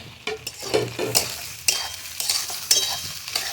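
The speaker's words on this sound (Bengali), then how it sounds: "আর এবার আমি এই যে টমেটো আর ক্যাপসিকাম সমস্ত কিছু দিয়ে দিচ্ছি একবার" Tomato and capsicum stir-fried with onion in a pan for a winter-vegetable chowmein, a steady sizzle broken by several loud scraping stirs of a spatula, close and without voices.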